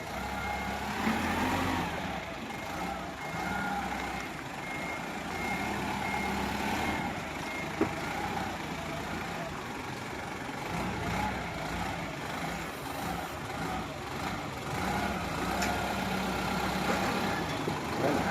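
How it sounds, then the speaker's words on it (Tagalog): A car is parallel parked at a driving course. A steady engine idle and drone of traffic carry through, with faint beeps and a brief thump. The sound is continuous and moderately loud, and no voices come through. "Okay, parallel parking gagawin niya ni sir."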